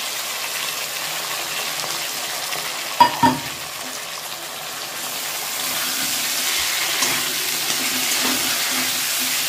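Cumin-ginger paste sizzling in hot oil with fried potatoes in a home kitchen pan, a steady soft frying hiss with a couple of sharp stirring clinks near the start.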